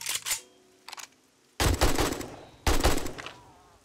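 Gunfire in 7 Days to Die aimed at feral Screamer zombies: a short burst, a brief quiet pop, then two loud rapid-fire volleys close by, each about a second long.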